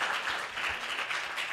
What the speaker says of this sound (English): Can we give Alan a round of applause?